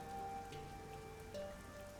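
Steady rain falling in the video game Rain Code, an even wash of drops on surfaces that continues throughout, with faint tonal game music underneath and no talking.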